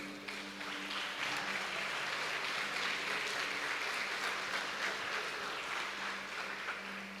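A church congregation applauding and glorifying God after a prayer, a dense, even wash of clapping from many hands sustained for several seconds at moderate distance, with a faint low hum beneath.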